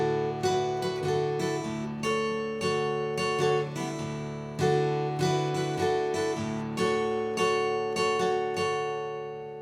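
Acoustic guitar plays the main intro riff of a song, a looping pattern of bright picked chord notes over a ringing low tone, close and steady with no voices.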